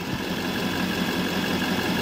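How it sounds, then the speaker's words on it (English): A 2010 GMC Savana G3500 van's Duramax diesel engine runs at a steady idle, a constant low rumble throughout with no talking. "Vehicle started right up."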